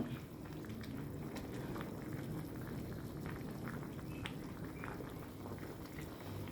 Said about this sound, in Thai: เปิดแก๊สไม่ต้องกลางๆพอ เขาเคี่ยวหมู ถ้าแรงแล้วน้ำล้นน่ะ